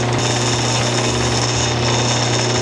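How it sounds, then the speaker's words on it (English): Scotch-Brite pads spin on the shaft of a power tool while pressed lightly against an old Disston #28 tool box saw during restoration, producing a loud, constant whirring hum with a steady rubbing hiss that runs uninterrupted. "the Scotch-Brite pads rotate on the shaft"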